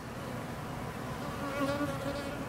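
Dense, steady buzzing of many honey bees close by at a top-entrance hive, a continuous droning hum with some individual wingbeats rising above it.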